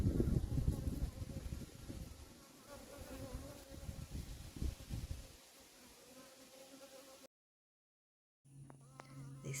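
Honey bees hum and buzz around a muddy water source outdoors, a steady faint droning with soft wind, fading out before a brief silence.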